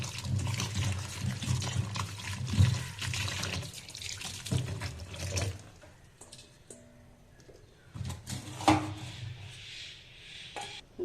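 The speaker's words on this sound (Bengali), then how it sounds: "চলো একটু ভালো করে এটা ধুয়ে নিই।" Chopped vegetables being washed in water in a home kitchen, with steady splashing and running water for the first five seconds, then quieter intermittent trickles and light clatters.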